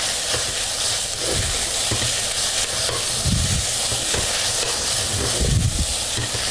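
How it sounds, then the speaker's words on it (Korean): Spicy pork stir-fried over high heat with chili flakes in a pan, sizzling and hissing steadily and loudly throughout, with bursts of louder frying as it is stirred and tossed. "티스푼으로 2개 넣어주고 다시 센 불에다가 볶아줍니다"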